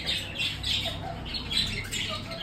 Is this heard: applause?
no